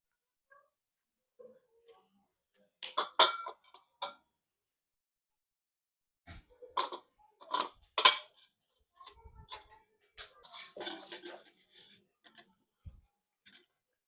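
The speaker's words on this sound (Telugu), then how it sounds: "ఒకసారి ఇవి కట్ చేసి చూద్దాము టేస్ట్ ఎలా ఉన్నాయో." A knife cuts fresh Kadapa mangoes in a quiet setting, producing sparse, close clicks and scrapes in small bursts separated by silent gaps.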